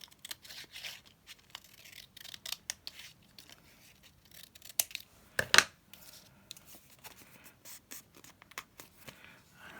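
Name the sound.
trimming paper with scissors for a craft card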